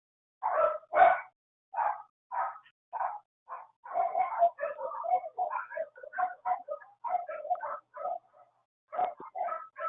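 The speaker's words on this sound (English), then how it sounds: "Do you hear my dogs?" Dogs barking at home around dinner time, a string of sharp, mid-distance barks and yips in uneven bursts, some overlapping, with short pauses between.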